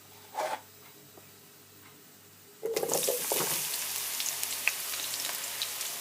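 Brinjal hitting hot oil: a quiet pan with a brief clatter early, then a sudden loud burst of sizzling and crackling that settles into a steady fry.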